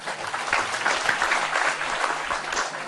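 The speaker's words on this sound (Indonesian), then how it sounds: "Tepuk tangan untuk para petanya." An audience at a religious study gathering in Jombang, East Java, claps steadily and densely for nearly three seconds, a continuous wash of applause with no talk over it.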